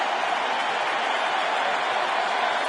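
A baseball stadium crowd at an NLDS playoff game roars in a steady, dense wash of cheering that holds level throughout, with no single voice standing out.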